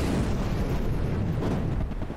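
Naval cannon fire from a single working barrel of the warship Toyama in a video game, a continuous deep rumbling boom that fills the whole moment, loud and close, with no talking.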